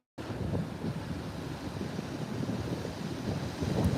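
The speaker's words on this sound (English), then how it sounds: "I do apologize for the wind." Wind buffets a microphone outdoors near Great Falls, Maryland, a continuous low rumbling roar that builds gradually louder over a few seconds, with no talking.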